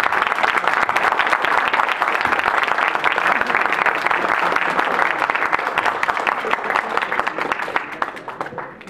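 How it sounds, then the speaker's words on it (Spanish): Loud, sustained audience applause for the final lecturer at an engineering school event on video game licensing, dense clapping from a large crowd that tapers slightly toward the end. "Bueno, un aplauso para nuestro último conferencista."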